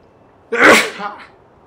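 A single loud, close sneeze bursts out once and fades quickly, with no other sound around it, during play of Genshin Impact.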